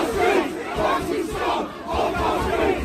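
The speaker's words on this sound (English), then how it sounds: "in Liverpool the crowd chanted "Migrants are welcome here."" Thousands of counter-protesters in Liverpool chant in unison, a loud rhythmic crowd chant rising and falling in repeated phrases, with the massed voices close and filling the street.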